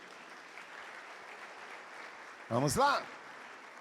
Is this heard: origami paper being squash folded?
no